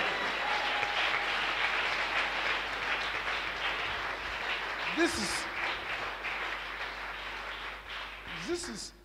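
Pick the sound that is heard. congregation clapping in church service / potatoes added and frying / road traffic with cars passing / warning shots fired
congregation clapping in church service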